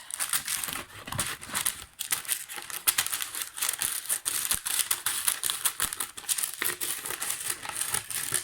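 Parchment paper for a lantern cover crackles, crinkles and snips as it is cut, in rapid irregular bursts that are close and continuous, with no talk.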